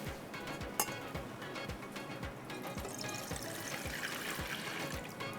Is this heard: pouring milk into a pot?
yes